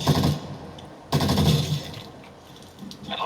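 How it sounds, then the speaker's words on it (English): Rapid automatic gunfire in a zombie shooter video game, two loud dense bursts separated by a brief pause, then quieter scattered shots. "You can hear me shooting"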